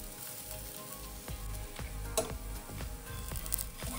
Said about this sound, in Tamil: இப்போ சுற்றியும் எண்ணெய் ஊற்றிக்கலாம்.